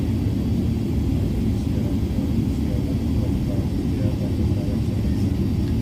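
Steady, loud low rumble of airplane engines at Heathrow airport, continuous throughout with no distinct events, with someone talking over it.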